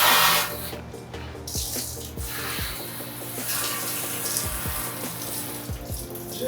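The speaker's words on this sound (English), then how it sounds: "just give a small rinse." Running water rinses leftover suds out of a cold brew vat: a loud, continuous faucet-like gush and splash that holds steady throughout.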